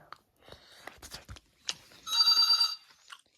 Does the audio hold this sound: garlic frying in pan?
no